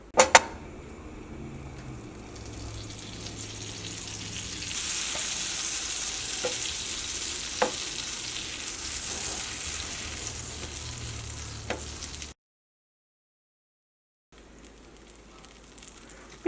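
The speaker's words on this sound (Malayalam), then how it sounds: "ഇനി ബ്രെഡ് നമുക്ക് ബട്ടറിലൊന്ന് ടോസ്റ്റ് ചെയ്തിട്ടെടുക്കാം." Bread toasting in butter in a pan for an easy sandwich sizzles and crackles steadily and close, with a few sharp pops and clinks, then cuts to silence briefly before the sizzle resumes more quietly.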